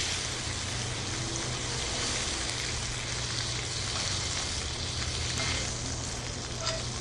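Pork ribs pan-fry in a pot with red chili peppers, giving a loud, dense and unbroken sizzle with a bit of stirring that fills the whole stretch, with no talk over it.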